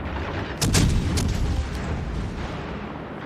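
Naval gunfire in World of Warships: a heavy boom bursts out near the start, with a second crack shortly after, then a long rumbling decay of battle noise with no voices.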